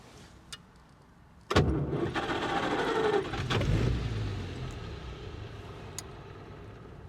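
A 1930s pre-war Rolls Royce 20/25 engine catches with a loud burst of cranking and firing, then settles into a quieter, steady idle with a few light clicks over it.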